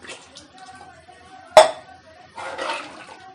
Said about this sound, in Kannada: ಅದೇ ಗ್ಲಾಸಲ್ಲಿ ನಾನು ಇನ್ನೊಂದು ಗ್ಲಾಸ್ ನೀರು ತಗೊಳ್ತಾ ಇದ್ದೀನಿ